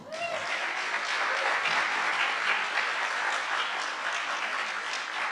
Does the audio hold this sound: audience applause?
yes